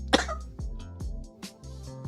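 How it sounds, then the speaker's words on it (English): A single sharp cough right into a studio microphone during a live political talk show, followed by a few quieter throat sounds close to the mic. "Very professional of me to"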